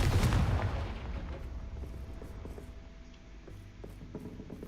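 A Confringo blasting spell in the video game Hogwarts Legacy bursts with a loud booming explosion right at the start, then its rumble fades away over the next few seconds with faint crackling debris.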